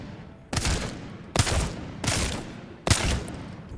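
Four sharp Wingman pistol shots in Apex Legends, each a loud crack with a short tail, fired at slow, slightly uneven intervals with no talking.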